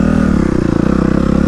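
A 2013 Suzuki RMZ250 dirt bike's exhaust runs close and loud, a steady throbbing engine note with rapid pulsing and slight rev swells.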